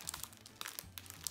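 Paper poster being peeled slowly off its sticky backing, giving soft crinkling and faint tearing crackles in a quiet, close, uneven series with no talking.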